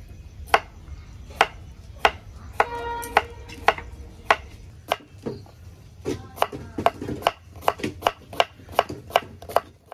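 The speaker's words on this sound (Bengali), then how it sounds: "শসাটা কেটে নিই।" A knife chops a cucumber on a board at a winter night picnic, sharp crisp cuts in an uneven rhythm, close and clear with brief pauses between runs of strokes.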